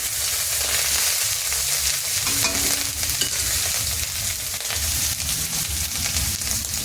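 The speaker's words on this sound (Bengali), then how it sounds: "পেঁয়াজ বাটা দিয়ে ভালো করে নেড়ে নেব।" Onion paste frying and being stirred in a pan while cooking a Bengali taro stem curry, a steady close sizzle with scraping stir strokes running throughout and no talk.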